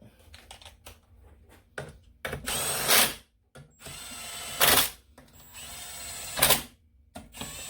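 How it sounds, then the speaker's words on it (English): An impact driver rattles in three short, loud bursts as it drives bolts into a Kawasaki 650 jetski engine, separated by quieter clicks and handling noises nearby. "Drive them first in with impact"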